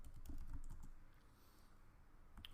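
Quiet computer keyboard typing, a short burst of soft, quick key clicks at close range, entering an apt-get install command with no talk.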